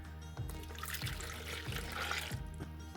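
Milk and water poured into a bowl for a yeast mixture for loukoumades, Cypriot honey doughnuts: a steady splashing, trickling pour close by, starting after a brief quiet moment and running continuously to the end.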